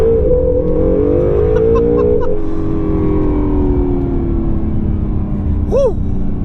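A 2017 Acura NSX accelerating hard from a floored throttle, its loud engine note rising steadily and then holding a long sustained pull, up close with no talk over it.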